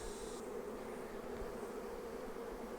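Honey bees buzz steadily around a nucleus beehive of five or six frames, a dense, continuous drone heard close and fairly quiet with no talking.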